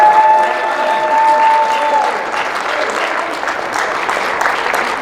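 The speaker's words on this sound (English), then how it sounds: "give them a great round of applause" Loud, sustained applause from an audience at a gathering of NFL mothers with student athletes and parents, steady clapping filling the room for several seconds.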